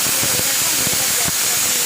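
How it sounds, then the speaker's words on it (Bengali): A pressure cooker cooking lentils vents steam in a loud, continuous hiss, close and sustained, with faint intermittent tonal whistling woven through the rush. "প্রেসার কুকারে ঢাকনা দিয়ে ডালটাকে আমি দুটো সিটি মেরে নেব"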